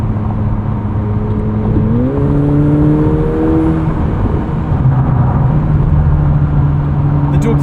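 A 2025 McLaren 750S supercar engine accelerating from inside the car, a loud steady drone that climbs in pitch through a gear, then settles into a lower, steady hum.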